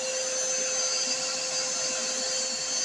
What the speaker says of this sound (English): we're going to try this vacuum cleaner